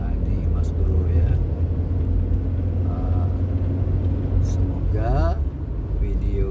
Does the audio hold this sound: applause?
no